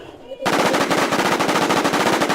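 Rapid automatic gunfire from the video game The War Z erupts after a brief quiet moment and continues as a loud, dense, steady burst to the end of the clip.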